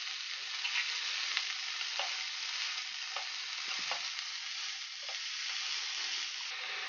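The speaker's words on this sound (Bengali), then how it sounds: "এভাবে আমি সবগুলি উপকরণ ভালোভাবে ভেজে নিব।" Vegetable filling for spring rolls, with green chilies and salt, stir-fried in a pan: a steady, close sizzle runs throughout, broken by soft scraping strokes of the spatula every second or so.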